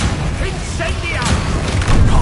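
An Incendio fire spell bursts in Hogwarts Legacy on PS5, a loud, dense roaring blast with thumping low rumble that sustains across the moment, with game dialogue voices mixed in.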